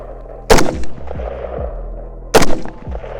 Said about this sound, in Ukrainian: ти, може ти спочатку зробиш постріл, потім я спробую